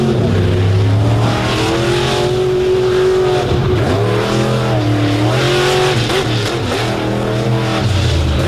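Loud, close engine roar from a race truck powering around the track on race day, its pitch climbing and dipping repeatedly as it accelerates and eases through the turns, with no talk over it.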